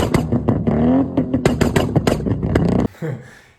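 A Holden car fitted with Pacemaker 4480 headers revs hard up close, with a run of sharp, throaty blips and rising engine notes that cut off abruptly near the end.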